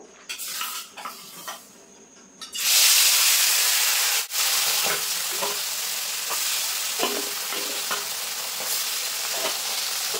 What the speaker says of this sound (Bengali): মাছগুলো কিন্তু খুব সুন্দর করে আমি ভেজে নিয়েছি